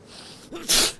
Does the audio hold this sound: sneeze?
yes